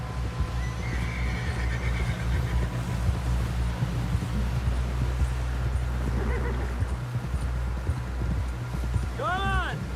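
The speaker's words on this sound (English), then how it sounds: "Someone help John down off this horse" A horse whinnies and its hooves clip-clop steadily in Red Dead Redemption 2, with a closing neigh at the end, while characters talk and game ambience plays underneath.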